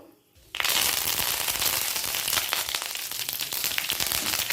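Panch phoron spices hit hot mustard oil in a kadai on a gas flame, bursting into a loud, dense, crackling sizzle after a brief quiet start and carrying on steadily.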